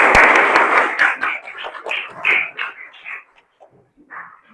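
Students in a vocational school science class clap their hands together in a counted rhythm, a dense burst of claps at first that thins out, with voices chanting along near the end.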